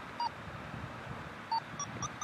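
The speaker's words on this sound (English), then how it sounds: "you should be able to hear those tones continue to tell you when you're thermal and you're climbing" Variometer climb tones from a FrSky Archer GR8 receiver on an RC glider in a thermal: short, faint electronic beeps at rising pitches, spaced irregularly over a soft background hiss.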